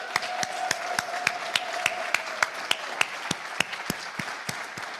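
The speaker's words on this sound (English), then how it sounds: "if you'll please give Maestro Gordon Hubble a round of applause" Round of applause at a Rotary Club hybrid meeting, a small group clapping with a few sharp, close claps standing out in an even rhythm over a thinner background patter.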